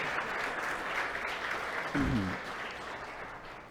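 A church congregation applauds steadily throughout, a dense wash of clapping with a brief voice cutting in near the middle.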